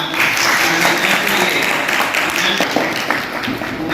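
A burst of enthusiastic applause at a retirement honor ceremony, many people clapping together in a loud, continuous wash of sound throughout.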